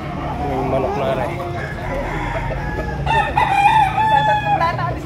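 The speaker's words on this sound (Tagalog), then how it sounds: "May manok na rin." A rooster crows loudly and close at a live poultry market in Padre Garcia, Batangas, one long strained call rising over steady crowd chatter and clucking fowl.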